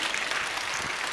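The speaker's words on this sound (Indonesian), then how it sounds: "Tepuk tangan untuk kita semuanya." An audience at an Islamic vocational high school gathering in Blitar claps together, giving a brief, even burst of applause that lasts about a second at moderate volume.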